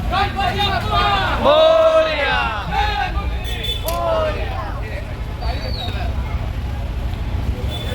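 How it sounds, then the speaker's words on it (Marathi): Crowd babble surrounds a Ganesh idol arrival procession outdoors, a dense murmur of many voices with one louder voice talking close by over it. "हे बघा गर्दी झालेली आहे"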